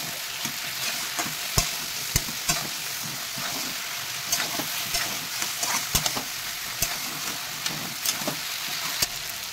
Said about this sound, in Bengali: যা চিংড়ি মাছ ছিল সব কটা দিয়ে দেবো।